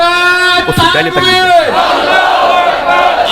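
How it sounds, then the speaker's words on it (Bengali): A large crowd at a religious gathering chants the takbir in loud unison, many voices rising together in a sustained roar that swells and then trails off into a noisy crowd murmur. "কি তাকবীর দেন জোরে"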